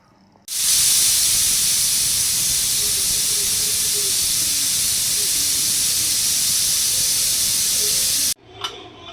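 A loud, sustained hiss of steam bursts out from a pressure cooker whistle while cooking dal rice, for about eight seconds, then cuts off abruptly.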